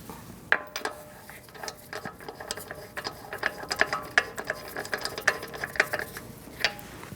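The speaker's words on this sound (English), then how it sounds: "You are going to need your socket to do that." A ratcheting socket wrench spins a lug nut onto a 2008-2014 Mercedes-Benz C300 during strut replacement, producing a run of quick, close metallic clicks that grow denser and louder as it goes.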